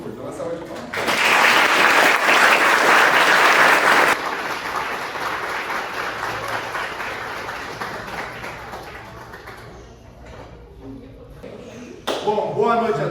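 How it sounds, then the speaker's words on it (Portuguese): Loud, dense audience applause at a short-film screening event, swelling for several seconds before easing to a steadier clapping bed, then fading near the end as a voice breaks in briefly. "Uma salva de palmas."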